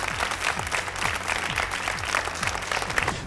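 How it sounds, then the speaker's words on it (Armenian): Studio audience applauds the third contestant on a televised singing competition, with brisk, even clapping from a crowd that stays steady through the short stretch. "ծափահարությունները մեր երրորդ մասնակցին"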